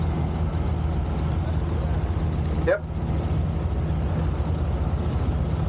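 A 1953 Oliver 88 six-cylinder diesel tractor runs steadily at an outdoor show, its low engine drone continuous and fairly loud, with one brief spoken word in the middle.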